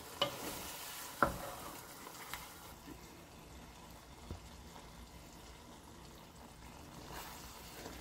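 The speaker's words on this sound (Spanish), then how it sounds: "voy a dejar a que hierva por unos minutitos para después incorporar agua" Chorizo in green salsa simmers in a pan, giving a faint, steady bubbling sizzle with a few soft clinks of stirring utensils near the start and no talking.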